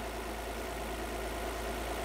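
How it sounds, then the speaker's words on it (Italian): A car engine idles steadily during an alternator test with a battery tester, giving a constant low rumble with an even pulsing throb, close and continuous, with no talk. "Abbiamo già acceso il motore, già acceso, per favore accendi il motore"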